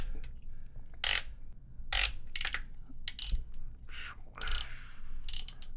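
Ratcheting joints on a Hasbro Transformers War for Cybertron Earthrise Commander Sky Lynx toy click in short bursts as the limbs are moved, with several distinct ratchety clatters close up over quiet background.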